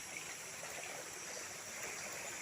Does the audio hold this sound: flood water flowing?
yes